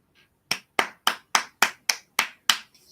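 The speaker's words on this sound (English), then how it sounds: "Round of applause, everyone." A single person claps eight times in an even, moderately quick rhythm, each clap sharp, close and distinct, with silence between the strokes.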